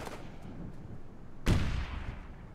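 Gunfire in the military shooter game Operation Flashpoint: Dragon Rising, with a sharp, loud shot halfway through that decays into rumble over a faint, muffled battlefield background.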